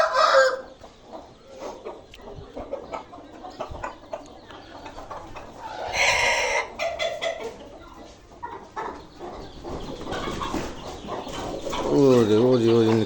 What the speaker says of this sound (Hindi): कोको साहब जो है वो मुर्गियों के पीछे भागने की कोशिश कर रहे हैं